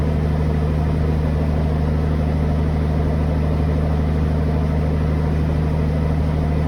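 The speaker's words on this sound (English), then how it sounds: "As the engine begins to warm up, we'll set the altimeter." A Bell 47J helicopter piston engine warms up at idle, a steady close low drone with constant harmonic hum and no voices throughout.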